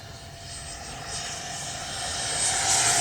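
A Freewing Zeus 90mm 6S RC jet flies past at full speed, its ducted fan's loud, steady whoosh building in volume as it approaches.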